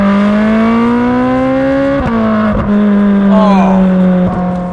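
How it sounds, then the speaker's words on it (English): A Ferrari Speciale Aperta V8 revs loud and close, its steady high-pitched engine note holding then briefly dipping and surging again, with no talk over it. "oh, you get to hear that V8."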